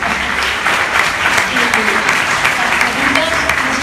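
Steady applause from an audience at a Christmas book market event in Catalonia honors Astrid, dense and continuous, with voices murmuring underneath.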